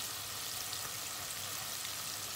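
Floured chicken livers fry in a pot of oil, giving a soft, even sizzle that stays steady and fairly quiet from start to end.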